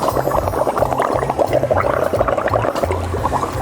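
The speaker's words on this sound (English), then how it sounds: "and then let's start making bubbles" Breath is blown through a straw into liquid at a children's bubbles party, making loud, close bubbling with rapid, irregular low gurgles in short bursts and no talking.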